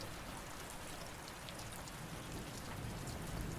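Steady night rain falling on surfaces, a dense continuous patter with no pauses and no voices, holding an even level throughout.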